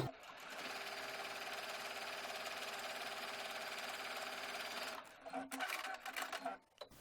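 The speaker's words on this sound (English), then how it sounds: "let's start with a 1/2 inch straight seam to join our panels together" A sewing machine stitches a half-inch straight seam joining skirt panels, a steady close mechanical whir for about five seconds, then stops and gives way to handling noises and scattered clicks.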